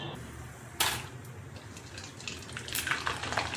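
Rava (semolina) papads frying in hot oil, with a steady sizzle throughout and sharper bursts of crackling as each one hits the oil and puffs, loud and close with no talking.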